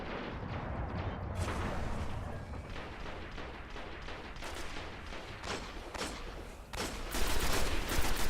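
Rapid automatic gunfire from a weapon in the video game Destiny's Crucible PvP mode, dense continuous bursts throughout with a louder volley near the end, no talking.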